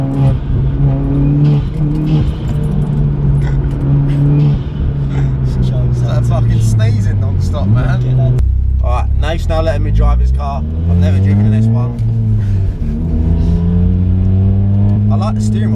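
A stage 2 tuned Audi S1, a four-wheel-drive hatchback, revs its engine in rising and falling sweeps throughout, a steady close drone with voices talking over it.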